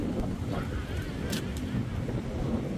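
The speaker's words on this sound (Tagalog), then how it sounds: "Sobrang lakas ng hangin." Steady wind buffets the microphone with a constant low roar, strong and close, with faint voices in the background, in cool Tagaytay air.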